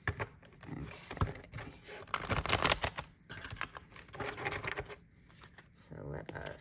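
Soft papery riffling and light slapping of tarot cards being shuffled, close by, with a voice talking over parts of it.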